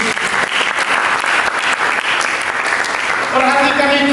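Loud, dense applause from a church congregation at a sermon, continuous clapping that fills the whole stretch, with a voice rising over it near the end.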